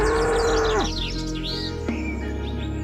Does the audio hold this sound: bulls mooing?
yes